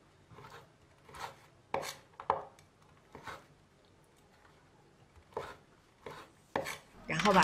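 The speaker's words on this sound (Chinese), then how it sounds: "把这些干果切成小丁" A knife chops dried fruit into small dice on a cutting board while preparing homemade shaqima, sounding as a steady series of crisp, close knocks with short pauses between them, and no talking.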